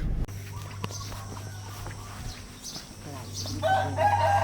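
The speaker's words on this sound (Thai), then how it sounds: "มีไก่ด้วย มีไก่ด้วย นี่ดิไก่ ไก่ตีค่ะ" A fighting cock crows near the end over a steady low hum and scattered ambient noise, loud and fairly close.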